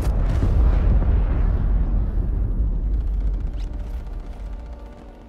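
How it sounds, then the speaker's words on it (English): Loud, deep cruise missile explosion in Call of Duty: Cold War, a heavy boom that rumbles and slowly decays over several seconds with scattered debris crackle and faint game sounds beneath. "Cruise missile inbound."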